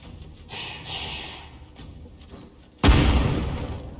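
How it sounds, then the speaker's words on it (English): A cluster grenade in Divinity Original Sin 2 bursts in one sudden, loud, close boom that rumbles and fades over a second, preceded by quiet breathy rustling. "Cluster grenade."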